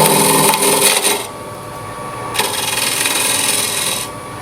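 A wood-turning gouge rubs its bevel against spinning wood on a lathe, giving a close, loud scraping hiss that swells and eases in two passes.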